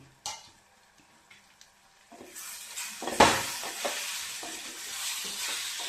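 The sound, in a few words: stirring lime pickle with chilli and salt in a pan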